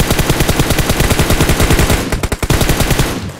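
Rapid automatic gunfire in PUBG Mobile, loud and close, with evenly spaced shots in a long burst that briefly breaks up before a short final volley.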